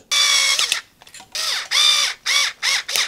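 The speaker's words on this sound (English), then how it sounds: "I'm gonna take these screws that are provided, and it's gonna go right underneath." A power screwdriver drives the supplied screws into an electrical connector on damaged Romex wire, with several loud whirring bursts of rising and falling pitch separated by short pauses, close up and without speech.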